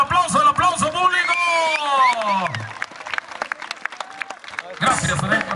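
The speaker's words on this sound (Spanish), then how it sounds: "denle el aplauso, el aplauso, el aplauso público" Crowd applause at a rodeo (jaripeo) in Jocutla, Guerrero, Mexico, scattered clapping running beneath an announcer's amplified voice, with a louder burst of clapping near the end.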